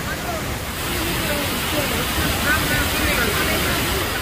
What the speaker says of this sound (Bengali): শব্দতেই হয়তো বুঝে গেছেন, এখানে ওরকম ব্রিজ, তার সঙ্গে ঝর্ণা